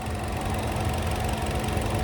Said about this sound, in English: there's that 2-liter naturally aspirated 4-cylinder engine